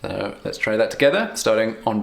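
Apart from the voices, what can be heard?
No everyday noise stands out behind the speech.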